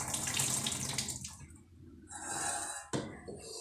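Rinse water draining and pouring off washed rice, a continuous splashing flow close by that eases briefly and then surges again, ending with a sharper splash as the water runs out.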